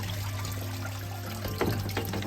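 Water trickles and splashes steadily through a recirculating Dutch bucket hydroponic system in a garden, a continuous close flow beneath a low hum, with a brief louder splash near the end.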